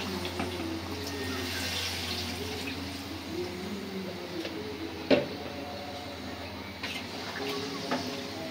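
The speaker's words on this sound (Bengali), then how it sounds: "এখন সেদ্ধ হওয়ার জন্য পরিমাণ মতো পানি দিয়ে দেব" Water for boiling is poured over beef in a cooking pot, a soft steady trickling and sloshing with a single sharper knock partway through.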